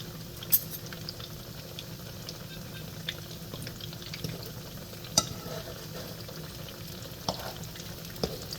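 Salmon croquette patties fry in a pan with a steady low sizzle and crackle, punctuated by a few sharp clicks of forks turning them, close and moderately quiet with no talking.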